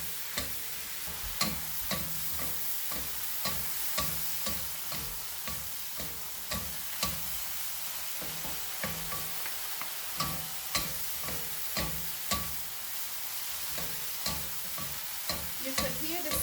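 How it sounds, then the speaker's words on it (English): Chinese broccoli and pork belly sizzle and crackle in a hot wok, a steady close frying hiss punctuated by rhythmic scraping and clicking of stirring throughout. "You could hear the sizzling of the hot wok"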